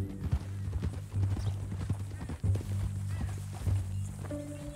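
Horse hooves clip-clop at a steady walking rhythm in Red Dead Redemption 2, clear and close, with faint game ambience behind.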